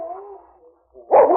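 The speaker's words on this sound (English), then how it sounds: "The sergeant and Bud could hear a wolf or a dog howling as they started through the forest" A dog howls and whimpers in a forest scene from a 1950s radio drama, a wavering drawn-out cry followed by a louder sharp yelp at the end, close and clear without speech.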